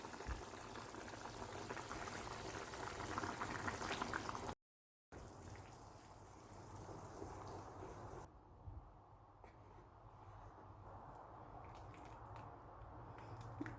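Chicken white kurma with ground masala bubbles in a pot on the stove, a quiet, close, continuous simmering with soft squishy bubbling, briefly interrupted by a silent gap.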